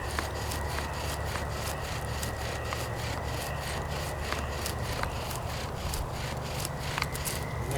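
Wooden bow drill spindle grinding into a wooden fireboard under heavy downward pressure, a steady close rasping rub with rhythmic back-and-forth strokes throughout, no talking.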